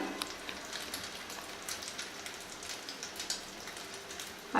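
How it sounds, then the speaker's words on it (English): Spanish omelette mixture frying in a pan: a steady, fine crackling sizzle with scattered pops, even and continuous throughout, with no voices. "Generally in omelette we fry one side, but for Spanish omelette we will be frying it on both the sides."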